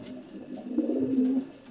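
Close, soft cooing from a champion long-distance racing pigeon, one low warbling coo that swells and fades.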